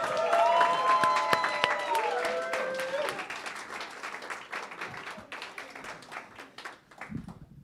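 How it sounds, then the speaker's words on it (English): An audience applauds Arturo after a book-launch reading at an evening celebration, the clapping fading and thinning toward the end while a sustained musical tone rings under the first few seconds. "Let's give Arturo another round of applause."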